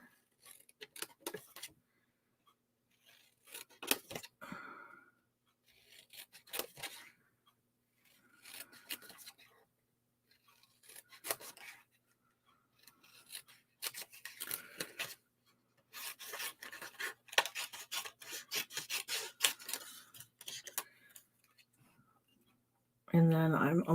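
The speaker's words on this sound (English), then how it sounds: "I'm aligning my scissors and I'm turning the paper instead of my scissors." Scissors snip and rasp through card stock in short bursts separated by pauses while making a craft card, close by and fairly quiet.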